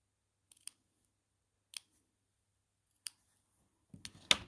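Sharp scissors snip paper in four separate crisp cuts spaced about a second apart, close and isolated against near silence, the last cut slightly longer.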